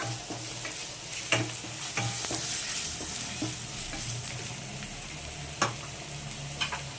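Capsicum, onion and other vegetables for mushroom fried rice sizzling in a pan, with a steady fry under repeated spatula scrapes and knocks against the metal.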